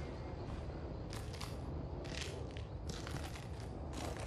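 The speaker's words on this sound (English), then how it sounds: "I hope that's me crunching on glass and not someone chewing through a bone." Footsteps crunching over broken glass in the video game Outlast, a quiet series of gritty crunches over a steady low background hum, without talk.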